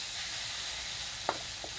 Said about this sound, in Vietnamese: Rồi mình xào cái mắm nó ráo lại rất là ngon.